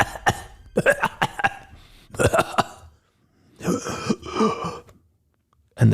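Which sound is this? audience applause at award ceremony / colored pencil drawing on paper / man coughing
man coughing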